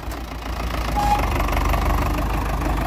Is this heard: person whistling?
no